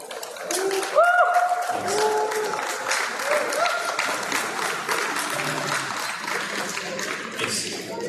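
Audience at a Hyundai town hall applauds steadily for several seconds, a dense wash of clapping with a brief voice near the start.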